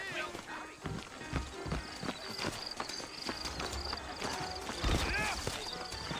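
Horse hooves clip-clop in a Western setting in Red Dead Redemption, a steady run of close hoofbeats under people talking and a game soundtrack.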